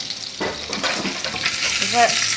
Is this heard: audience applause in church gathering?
no